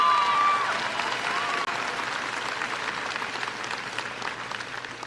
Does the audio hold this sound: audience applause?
yes